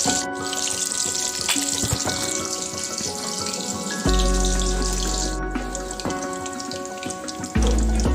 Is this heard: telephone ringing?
no